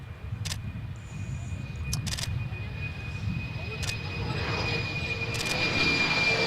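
A Fokker airliner at Adelaide Airport, its engine noise swelling gradually louder, while several sharp camera shutter clicks snap close by over the drone.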